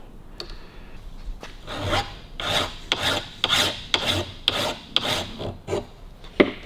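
A hand file rasps steadily across a metal edge on a Harley-Davidson WLC part in about a dozen rhythmic back-and-forth strokes, close up and moderately loud.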